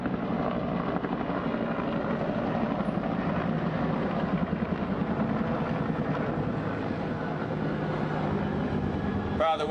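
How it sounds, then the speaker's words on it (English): Helicopters flying overhead during an outdoor mayoral press briefing in Washington, D.C., a steady droning rotor rumble that continues throughout, moderately loud and unbroken, with no clear speech. "the helicopters will get a D- for interfering with our"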